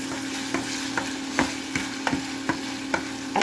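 Ground meat sizzles in a pan as a utensil scrapes and stirs it in regular strokes, roughly every half second, over a steady frying hiss.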